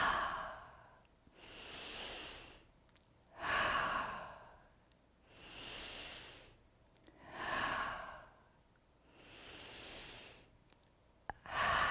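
Slow, deep breathing during an energy healing exercise: six long, airy inhale and exhale cycles, each lasting about a second and a half with short pauses between them, close and clear, with no talking.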